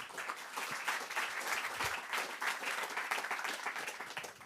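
Audience applause at a French talk on children's brains, a steady, fairly faint sheet of many hands clapping that carries on evenly for several seconds.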